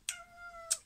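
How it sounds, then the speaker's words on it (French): Two sharp cat yowls bracket a drawn-out, tense meow during a brief scuffle between cats, close and fairly quiet with no talk. "Petite baston de chat."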